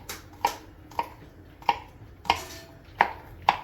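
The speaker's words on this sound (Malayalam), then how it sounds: "വെളുത്തുള്ളി സാധാരണ നമ്മൾ അരിയുന്ന പോലെ അരിഞ്ഞിട്ട് ഒന്ന് ചതച്ചതിനകത്തേക്ക് ഇടാം." Garlic being chopped with a knife, seven crisp evenly spaced chops on a board, close and clear with no talking.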